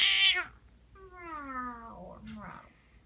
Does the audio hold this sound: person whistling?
no